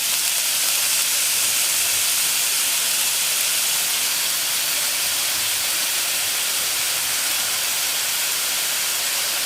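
Enoki mushrooms stir-fried in a hot pan for an egg dish give off a loud, steady sizzle that hisses continuously and close throughout.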